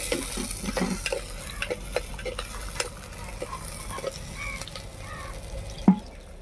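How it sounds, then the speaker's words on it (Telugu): Tomato pieces fry in hot oil for a fish curry, a steady close sizzle broken by spoon scrapes and stirring clinks against the pan, with one louder knock near the end. "ఆయిల్ బాగా ఫ్రై అయిన తర్వాత టమాటా ముక్కలు కూడా వేసుకొని బాగా ఫ్రై చేసుకోవాలి"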